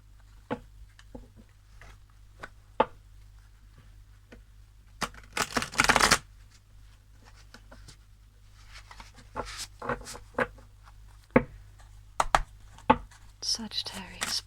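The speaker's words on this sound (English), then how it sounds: "I find that a lot of my viewers prefer to see just a very quick final shuffle" Tarot and oracle cards given a quick riffle shuffle, a short burst of close crisp flutter in the middle among soft card handling, taps and quiet speech.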